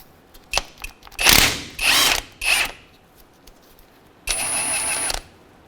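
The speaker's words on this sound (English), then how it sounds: "And we'll go ahead and take this bolt all the way out." A ratchet wrench clicks in several short, rapid bursts while backing out a 17mm pinch bolt on the front lower control arm of a 2007-2013 Mitsubishi Outlander, loud and close with brief pauses between strokes.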